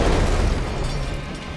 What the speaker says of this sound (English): The remake Murphy gets killed in a generic car explosion number 85.